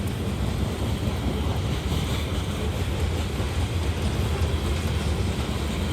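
A long CSX freight train with two mid-train helper locomotives rumbling past in Folkston, Georgia, a continuous broad roar with heavy wind buffeting the microphone and no distinct horn or clatter.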